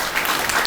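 Brief burst of applause from an audience at a sales presentation, dense and steady clapping throughout with no break.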